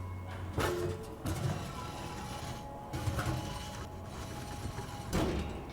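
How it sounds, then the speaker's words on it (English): Rusty metal door plates grind and clank as they slide apart on rails in Disco Elysium, giving a few separate mechanical scrapes and knocks over a low background hum. "two rusty metal plates that slide apart."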